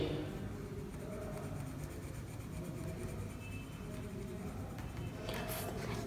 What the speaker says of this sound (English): you have to color with the yellow color pencil.